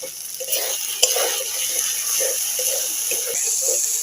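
Chopped tomato goes into sizzling spice paste in a pan while a Bengali home cook makes the paste. A steady, bright hiss of frying carries on throughout, with scattered light stirring and scraping clicks close by.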